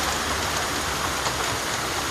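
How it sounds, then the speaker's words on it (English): Heavy rain drums steadily on a roof in the jungle, a dense, continuous wash of close hiss and patter with no voices. "The sound of raindrops on the roof was like nature's own soothing melody."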